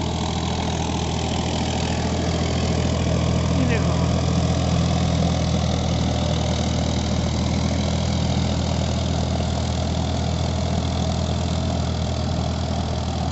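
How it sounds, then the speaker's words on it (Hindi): A Farmtrac 60 Supermaxx 55 hp tractor, 2021 model, pulls an 11-tine cultivator, its engine running as a steady, loud, low drone with an even knock throughout and no break. "डिस्टॉर्शन फ्री है, सिर्फ इंजन की आवाज़ आ रही है।"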